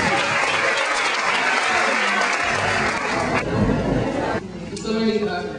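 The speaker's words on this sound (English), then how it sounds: "So everybody stand up. Let's just like give a round of applause" A standing audience at a legends brunch claps in a loud, continuous round of applause, with voices mixed in and the clapping thinning slightly toward the end.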